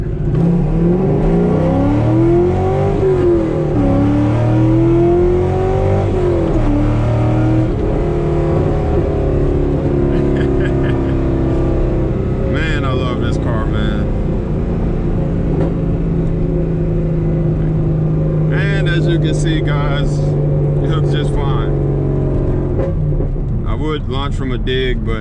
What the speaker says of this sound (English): let me show you guys first gear with these new tires, just so I can show y'all how it hooks